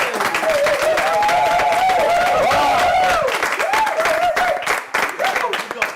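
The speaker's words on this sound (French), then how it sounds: "avec des applaudissements s'il vous plaît" A television studio audience claps loudly and steadily, with a voice over the top the whole time, before the applause drops away near the end.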